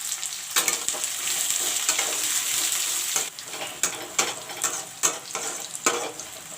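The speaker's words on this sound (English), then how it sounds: "First I will let the onions fry." Three chopped onions fry in oil, a loud close sizzle punctuated by regular scraping bursts of stirring roughly every second, without speech.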